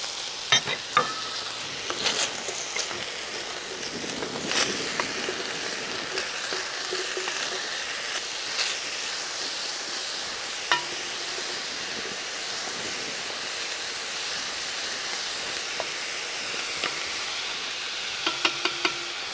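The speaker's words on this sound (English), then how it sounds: "I'm scraping the bottom when I stir this" A spoon scrapes along the bottom of a pot of beef stew with onions and carrots, dislodging browned bits. The scraping repeats in a steady rhythm over a low simmering hiss, close and fairly loud, with no talking.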